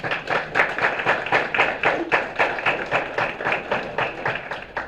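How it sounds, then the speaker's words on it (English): A city council meeting audience in Brownsville, Tennessee claps for an award winner, a fairly close round of applause with distinct individual claps forming an even rhythm throughout. "Let's give her a round of applause"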